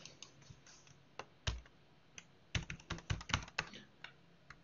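Typing on a computer keyboard while setting up an online panel, with irregular clusters of crisp key clicks and short pauses, some strokes louder and nearer, no talking.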